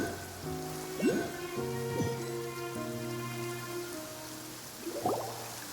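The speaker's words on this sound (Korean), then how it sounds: "요즘 계속 비가 내리네." Steady rain pours down in a Genshin Impact scene in Fontaine, a continuous close hiss under layered background music, with a few brief rising tones and no talking.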